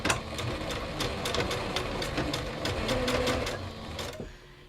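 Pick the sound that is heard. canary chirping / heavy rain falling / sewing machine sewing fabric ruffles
sewing machine sewing fabric ruffles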